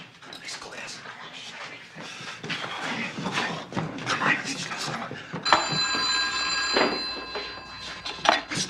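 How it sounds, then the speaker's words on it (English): A telephone ringing in a radio drama sounds as a sustained, loud electric bell trill in the second half, following busy voices and rustling earlier in the scene. "Stay, we should answer the phone."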